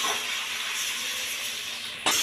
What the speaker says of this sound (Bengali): দিয়ে এটাকে আমি খুব ভালো করে ভেজে নেবো চিকেনটাকে